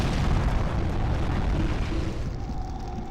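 A bomb explodes in an online shooter video game, producing a dense, loud, rumbling blast that fills the whole clip and fades slightly toward the end, with no talk over it.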